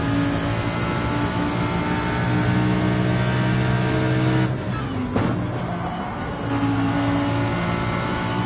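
Race car engine in a sim racing game, steady high drone with harmonic layers that dips briefly mid-clip as the throttle lifts, then builds again, loud and alone with no talk.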